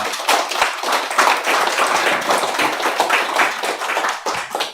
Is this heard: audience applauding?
yes